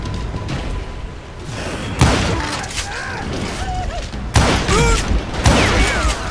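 Revolver gunfire in the Wild West shooter Call of Juarez Gunslinger: several loud, sharp shots at irregular intervals, around two, four and a half and five and a half seconds in, over a busy backdrop of game effects and music.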